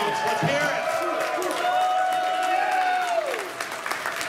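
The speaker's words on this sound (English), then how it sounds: "get one massive round of applause for the guy who puts this stuff together" A convention crowd at a wrestling-themed event breaks into sustained applause and cheering, with whoops and a voice calling out over the clapping.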